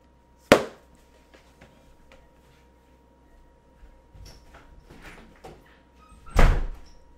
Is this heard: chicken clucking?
no